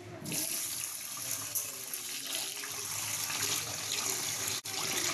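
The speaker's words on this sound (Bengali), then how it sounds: "আর সব চাল ডাল ধুয়ে নিয়ে রান্না করবো" Tap water runs steadily into a sink as rice and lentils are washed for khichuri, a continuous close rushing stream with light splashing, no voices.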